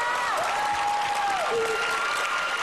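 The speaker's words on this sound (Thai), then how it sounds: "ต้องต้องปรบมือให้คุณครูด้วยนะครับ" A talent-show audience gives loud, sustained applause and cheering, a dense unbroken roar of clapping, while a sung or held tone slides through the middle of it.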